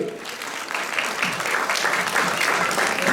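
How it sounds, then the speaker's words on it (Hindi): A theatre audience at a live amateur drama performance applauds steadily for a few seconds, dense clapping that stays even throughout, with faint voices mixed in. "तालियां बजाइए"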